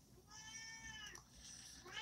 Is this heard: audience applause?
no